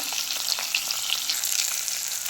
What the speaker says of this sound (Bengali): মাছটা দিয়ে দিয়েছি ভালো করে একটু ভেজে নেবো উল্টো পাল্টে